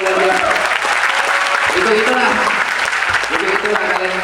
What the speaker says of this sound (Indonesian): Tepuk tangan dong untuk guru yang luar biasa.